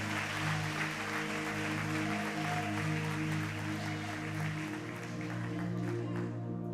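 A congregation at a Brazilian evangelical worship service claps steadily throughout, the dense applause layered over sustained keyboard or organ chords that hold beneath it.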